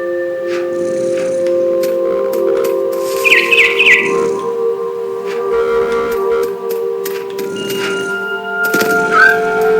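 Short bird chirps come from a mother bird up in a big tree in the video game What Remains of Edith Finch. They are set over a sustained tonal music bed with a few soft knocks and cracks.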